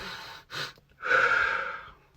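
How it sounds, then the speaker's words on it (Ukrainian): A person takes quick, sharp breaths through the nose during a breathing exercise, two short sniffs followed by a longer forceful inhale, close and clear with no talking. "Е, оці вдохи швидкі."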